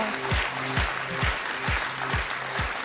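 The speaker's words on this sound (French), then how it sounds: "Prends les applaudissements, ils sont pour toi" An audience at a live televised reality-show gala claps and cheers to welcome an evicted contestant, a continuous wash of applause over thumping rhythmic music with repeating bass drops.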